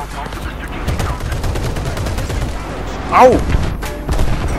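Tank cannon and gunfire from an M4A3 (105) in the War Thunder video game, continuous busy battle noise with a louder shot near the middle, while a voice speaks briefly over it.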